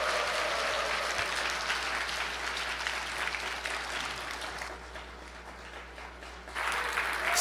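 Sustained applause from a church lecture audience greeting the speaker, dense and steady clapping that dips briefly near the end before swelling again.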